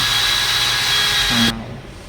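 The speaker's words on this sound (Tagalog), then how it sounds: "Kailangan muna butasin guys bago natin ipasok yung screw nang sa ganun diretso siya" A power drill bores a hole into pinewood ahead of screwing, a steady close whirring that cuts off abruptly near the end, leaving a quieter tail.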